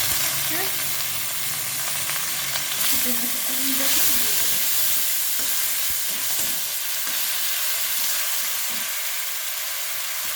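Grated onion sizzles and fries steadily in hot oil for a prawn curry, a loud continuous hiss with occasional stirring scrapes close by.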